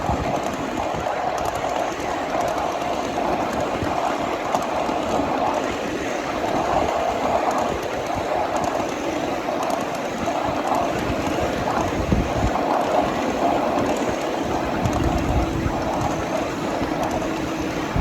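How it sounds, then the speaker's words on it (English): A 7.5-inch gauge miniature train climbs a hill with the throttle opened slightly, giving a steady, continuous rumble and mechanical rattle with some wind buffeting across the microphone, no talk. "Increase our throttle just a little bit to compensate for this hill."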